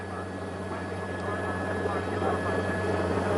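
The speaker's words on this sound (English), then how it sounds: "there are so many helicopters above him" Several police helicopters hover overhead during a Southern California car chase after armed robbery suspects, giving a steady, droning rotor and engine rumble that holds at an even level throughout.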